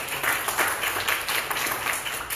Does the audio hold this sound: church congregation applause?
yes